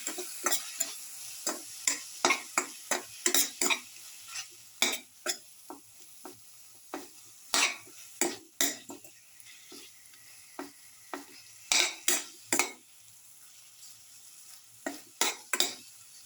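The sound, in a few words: crushing and stirring salted tomatoes in a pan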